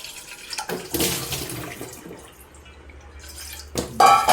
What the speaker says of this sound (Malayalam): ഇനി പാത്രം കഴുകി ഇപ്പോൾ ചായച്ചെറി എടുപ്പിച്ച് വെള്ളമൊക്കെ എടുത്ത് വയ്ക്കട്ടെ